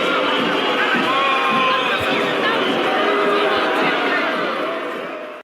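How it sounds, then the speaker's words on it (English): A roaring Soviet arena crowd cheers in a boxing film scene, a dense, loud and continuous wall of voices that fades slightly at the end. "Listen to this crowd. It sounds insane."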